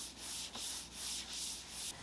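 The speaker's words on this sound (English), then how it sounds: "And then scuff sanded the rest of the piece." Scuff sanding of a piece of wooden furniture during a makeover, with steady rhythmic back-and-forth rasping strokes, about five passes, close and fairly quiet, with no voices.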